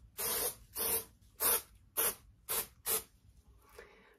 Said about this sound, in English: let me go ahead and do a little spritz